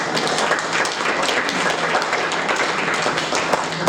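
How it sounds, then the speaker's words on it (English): A tribute evening audience gives a round of applause, steady scattered clapping from a moderate crowd, fairly even in loudness across the few seconds. "So another round of applause."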